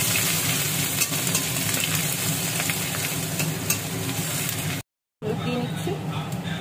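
Dal tempered with bay leaf, radhuni and ginger sizzles steadily in a pan, a continuous close frying hiss with occasional stirring, cut briefly by a short silent gap.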